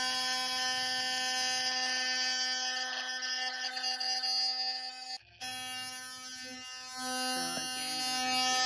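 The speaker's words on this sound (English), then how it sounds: "some guy was using an electric toothbrush to buzz pollinate his plants" An electric toothbrush buzzes steadily against tomato flowers to pollinate them, a close, continuous high-pitched hum that briefly cuts out and restarts with a slight change in tone.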